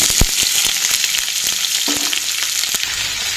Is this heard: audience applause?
no